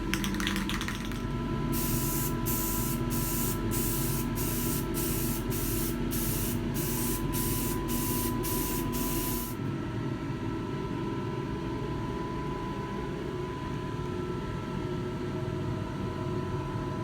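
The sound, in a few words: spray painting a dash with flat black spray paint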